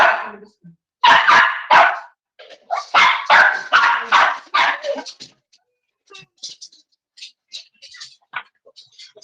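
A dog barks repeatedly at close range in sharp bursts, then quieter yips and whimpers follow in short scattered bits.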